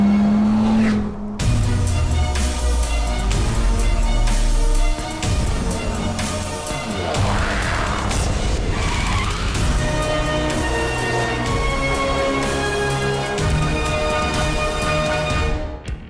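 An 8.4-litre V10 in a Dodge Viper roars loudly and continuously, its deep rumble rising and falling through revs with tire squeal mixed in, close and dominant for the whole stretch.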